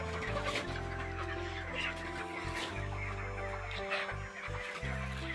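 Chickens cluck continuously at a village poultry farm of broiler birds nearing sale, a dense, overlapping flock chorus at low level with a steady background hum.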